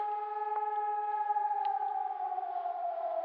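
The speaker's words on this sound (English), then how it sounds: "Air raid sirens. We still get air raid sirens." An air raid siren wails in a long, steady tone from a distance, slowly sliding lower in pitch near the end.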